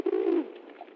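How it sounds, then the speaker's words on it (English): A pigeon gives a single close, soft coo, a low rounded note that fades into a quieter trailing murmur. "Pigeons mainly coo."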